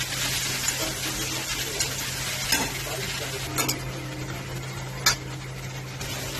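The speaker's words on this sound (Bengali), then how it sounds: "আদা রসুন বাটাটা দিয়ে দিলাম, দিয়ে ভালো করে ভেজে নিয়ে তারপরে একটু জল দেবো" Ginger-garlic paste fries in a wok with a steady, close sizzle, stirred now and then with a spoon that scrapes and clinks against the pan, no voices.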